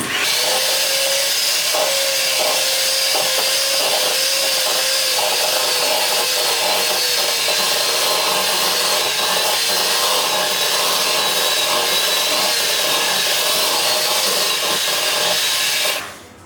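Banana almond bread batter is beaten with a steady, loud electric mixer whir that runs continuously, then cuts off abruptly at the end.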